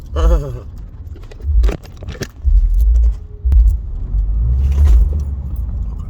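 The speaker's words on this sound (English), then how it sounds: "What's up with this traffic jam? It's a traffic jam." Cars in a traffic jam on a road: a loud, steady low engine rumble close by with passing swells and a few jangling clicks, with a person's voice briefly at the start.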